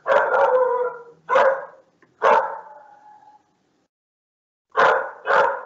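A pet dog barks close by in a run of loud, separate bursts, a quick cluster and then single barks, with a silent gap before a final pair; no one speaks over it.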